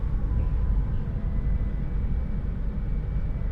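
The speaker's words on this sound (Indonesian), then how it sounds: "kereta api Kaligung diberangkatkan kembali dari stasiun Losari" Kaligung passenger train departing Losari station in Indonesia, heard from on board: a steady low rumble of the moving carriage, fairly quiet and even throughout, no talking.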